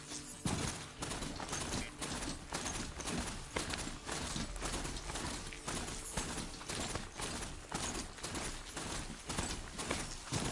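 Rapid, steady hoofbeats of a machine-like mount galloping in the game Horizon Zero Dawn, a dense, loud clattering rhythm throughout with game ambience layered over it.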